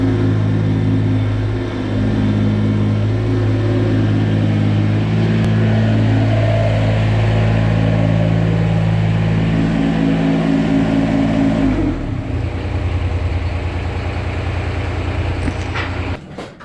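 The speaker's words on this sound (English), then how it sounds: "We get to actually put the tractor in the barn" A tractor engine rumbles steadily and loudly at close range as it drives into a barn, with a deep droning hum that shifts around twelve seconds and trails off near the end.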